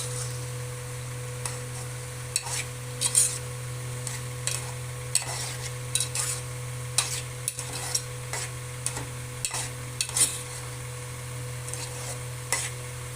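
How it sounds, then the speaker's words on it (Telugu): Baby brinjal curry coated in chilli powder is turned in a pan, spoon scrapes and clinks recurring over a low steady sizzle, with a constant background hum and no talking. "ఇప్పుడు ఒకసారి తిప్పండి కారం అంతా బాగా ముక్కలకు బట్టి కూర అంతా కారం కలిసేలాగా తిప్పండి"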